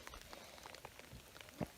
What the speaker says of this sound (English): it's raining nice heavy drops